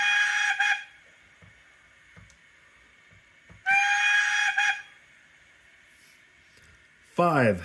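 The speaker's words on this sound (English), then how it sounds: "4 is a short whistle." An Accurascale model Pannier Tank steam locomotive gives short whistle toots, two brief bursts with quiet gaps, then a falling mechanical tone at the end, heard close up.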